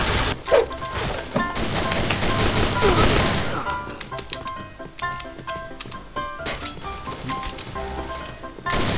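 Rapid gunfire bursts in the shooter video game Point Blank, dense automatic fire at first, then scattered sharp shots and clacks, loud and close, with a player's voice talking over it.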